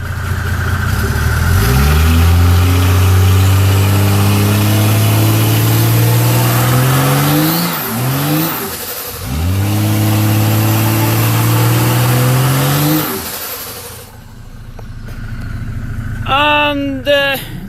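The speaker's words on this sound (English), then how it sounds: "let's just put it in drive today in the manual shift, so it stays in first, and see what happens if we give him some gas" A Mercedes OM606 diesel engine in an overland 4x4 campervan revs hard while held in first gear, with long rising and falling roars, a brief drop between bursts, then it settles back; close and loud.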